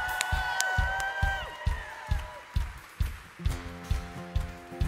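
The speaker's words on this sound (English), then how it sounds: "Can we just give one more big, giant celebration and applause to all those people who got baptized?" Church congregation applauding and cheering for newly baptized people, with loud whoops and shouts over scattered clapping; a rhythmic beat then enters under the crowd noise.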